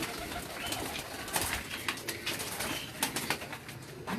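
Breeder pigeons at a pigeon keeper's loft coo in soft, repeated murmurs against a steady background, with an occasional flutter of wings and no speech.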